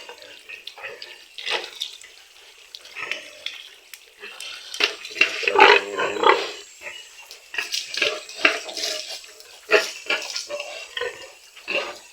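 Native pigs, among them pregnant sows, wallow and roll in water, giving irregular splashes and sloshing bursts at close range, with occasional soft grunts and no one speaking.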